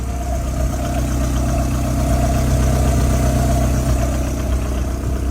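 A modified car engine idles steadily at an outdoor car festival in Namangan, a loud, continuous low rumble with a faint hum over it and no voices.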